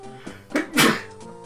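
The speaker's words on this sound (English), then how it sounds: "I'm going to sneeze." A single close sneeze with a short intake of breath before the sharp burst, loud and alone in an otherwise quiet indoor room.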